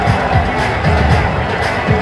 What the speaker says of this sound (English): That got the crowd going, the Indian side of it.